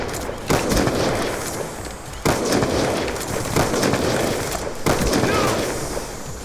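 Ballista sniper rifle fire in a Call of Duty firing range, a few sharp loud reports spaced about two seconds apart over a steady bed of game noise.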